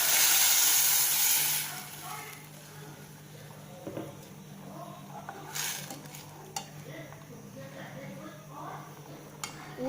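Ground masala paste poured into a pan of browned onions for channa sundal kulambu gives a loud hiss and sizzle at first that fades within two seconds, then soft stirring and utensil clinks follow under a voice.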